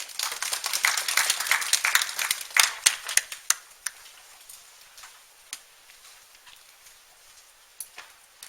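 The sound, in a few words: audience applause welcoming a teacher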